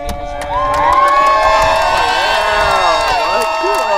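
Wedding guests in a crowd cheer and whoop loudly and steadily with some applause mixed in, a dense, close burst of excited voices.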